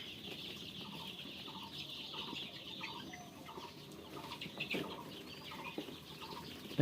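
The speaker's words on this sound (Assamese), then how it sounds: "এইফালে মুৰ্গীকেইটা চাওক এয়া ভয় খাই গৈছে" Frightened local chickens, young birds about twenty days old, cluck in a rhythmic series of short calls inside a poultry shed, fairly faint against low background noise, with a brief flutter partway through.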